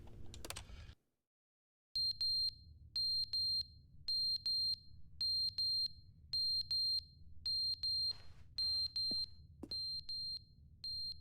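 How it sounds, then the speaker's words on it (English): A smoke detector with a dying battery chirps in a repeating pattern of short high beeps, roughly two per second, after a brief silence, over a steady low room hum. "The smoke detector is going off."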